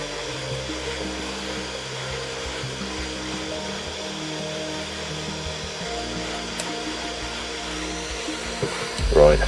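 Steady hot-air rework blast preheating the area around a socket on a Commodore C64 board, a continuous broadband whoosh that holds evenly throughout, with a brief louder bump near the end.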